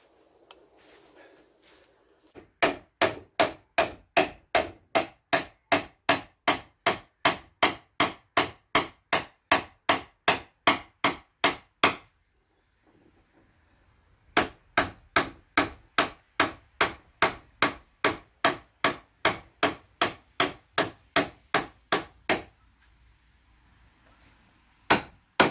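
Steady, evenly spaced hammer blows ring out loud and close, two long runs of strikes separated by a quiet pause.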